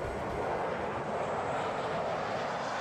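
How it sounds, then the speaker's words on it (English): Jet aircraft engines at Lambert St. Louis International Airport give a steady, muffled broadband roar that holds at an even level throughout, with no talk. "The sound of jet engines were muffled today at Lambert St. Louis International Airport."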